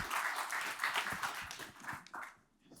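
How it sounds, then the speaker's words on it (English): Audience applause after a talk at a conference, a quiet burst of clapping from a small crowd that fades out within a few seconds. "another round of applause for Bhanu."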